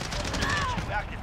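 Bison submachine gun firing in Modern Warfare, heard as a rapid burst of automatic gunfire in a short, busy stretch of gameplay.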